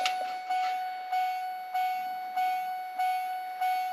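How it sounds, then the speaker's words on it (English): Warning chime in a Chevrolet Silverado: a steady bell-like ding repeating about every 0.6 seconds, seven strikes in a row at even volume, each ringing briefly before the next, with no one talking. "And that chime is as annoying as ever"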